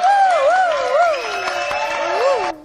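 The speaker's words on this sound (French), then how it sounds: "Applaudissements, s'il vous plaît" A studio audience on a French TV news-and-entertainment show claps steadily under a bright, wavering musical tune, a dense wash of applause that holds for a couple of seconds before cutting off abruptly near the end.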